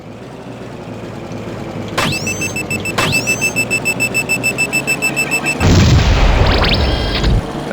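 Two sharp blasts ring out a second apart with lingering tones, followed by a rhythmic pulsing and a louder burst of noise, all synthetic, from Twisted Metal 4 Remastered.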